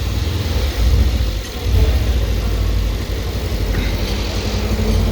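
A 2017 Mercedes C63s sits stationary with its radiator fan running continuously, a steady close whooshing drone blended with the low hum of the idling engine.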